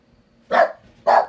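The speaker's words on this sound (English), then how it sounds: "like my dear Narada barking at something, just notice them" A dog barks twice in a quiet indoor setting during a meditation session: two short, sharp barks about half a second apart, fairly close and alone against near silence.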